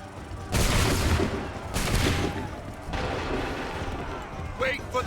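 Massed musket volleys crack out in Assassin's Creed 3, three separate loud, sharp fusillades about a second apart, each trailing off into a rumbling echo.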